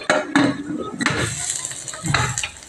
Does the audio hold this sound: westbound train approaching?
no